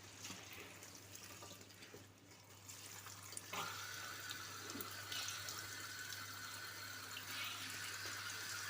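Molokhia leaves being washed in a basin of water, a continuous running and splashing water sound that grows louder partway through, with a steady low hum beneath.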